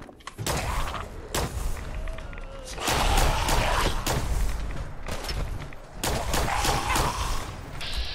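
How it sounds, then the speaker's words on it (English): Gunfire in the Fallout 4 video game while shooting at an enemy: repeated bursts of shots and thuds in clusters, loud and close, with someone speaking briefly between the volleys. "I keep shooting at you."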